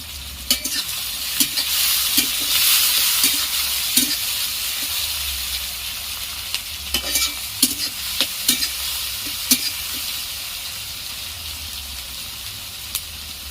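Food sizzles in a pan with two bay leaves as a spoon stirs it, producing a continuous frying hiss broken by repeated sharp scrapes and clinks of the utensil against the metal.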